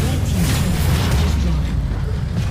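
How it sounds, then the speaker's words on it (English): A red-team turret collapsing in a League of Legends match during the UVA LCS Fall Split 2015 finals, a dense rumbling low boom and crumble that runs steadily under busy game sound and crowd or caster noise. "That is the red team's turret going down."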